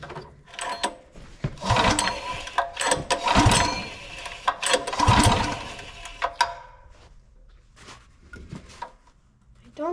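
Golf cart fitted with a swapped engine, cranked repeatedly without firing; loud mechanical whirring and clattering bursts of the starter come in several long pulls, with short pauses between attempts.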